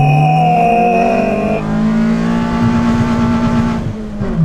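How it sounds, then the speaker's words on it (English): A Mitsubishi Lancer's 4G15 engine revs hard and holds high, its pitch climbing and sustaining, then drops off near the end; loud and close, no talking. "We were like revving for like a good like 10 seconds there"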